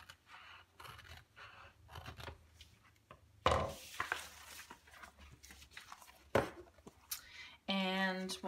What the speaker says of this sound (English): And we're gonna just cut this in half.